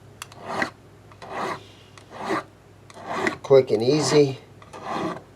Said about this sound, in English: We're just going to hit these frets. I just usually do 2 swipes on each fret.